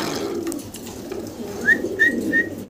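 Black Lahori pigeons coo in low, throaty rolls nearby, followed by a few short, rising whistled notes toward the end.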